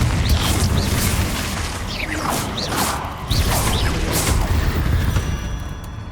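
Blasting-spell explosions from the Hogwarts Legacy video game: a dense, loud run of booming bursts and crashing debris, with whooshing sweeps rising between impacts across the whole stretch.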